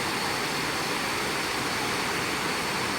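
Constant roar of cascading water at the first tier of Krathing Falls, Chanthaburi, a thick, even hiss filling the whole stretch close by, with nothing else audible.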